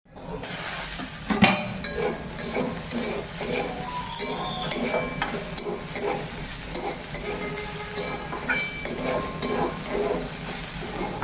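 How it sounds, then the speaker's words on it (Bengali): Bitter gourd frying in a pan, with a steady sizzle underneath and frequent scraping and clinking of a utensil against the cookware, close and continuous throughout. "উচ্ছেটাও দেখো বসিয়ে দিলাম ভাজতে"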